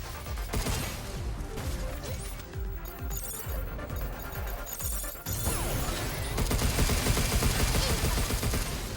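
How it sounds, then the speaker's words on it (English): Dense shotgun blasts and crashing impacts from the sci-fi video game Pragmata, firing steadily across the stretch amid busy combat noise and music, loud and close throughout. "Shotgun."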